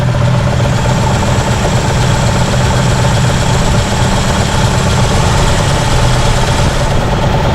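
A 1967 Chevy engine idles steadily up close, a loud, even rumbling drone with a faint lumpy pulse, continuous throughout.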